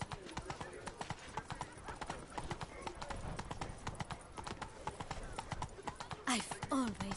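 Roach the horse gallops in The Witcher 3 with a steady, close clip-clop of hooves throughout, then a brief neigh near the end, with someone talking over the hoofbeats.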